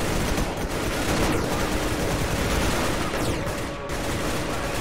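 Rapid video game gunfire in Roblox rattles in dense, continuous bursts, loud and close, filling the whole stretch with little pause.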